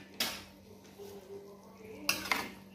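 Capcay vegetables including corn and broccoli stirred in a pan at home, with two sharp clatters of a utensil against metal at the start and near the end and faint scraping between, close and quiet.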